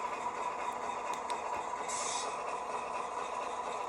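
Quiet, steady mechanical whir of a Rapido model locomotive with onboard sound running, with a soft hiss burst midway and faint rail clicks.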